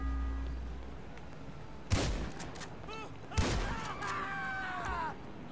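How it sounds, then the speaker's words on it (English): Two sharp gunshots ring out in a video game as a store clerk is shot, spaced about a second and a half apart over a low ambient hum, with faint musical tones ringing afterward. "I shot the clerk."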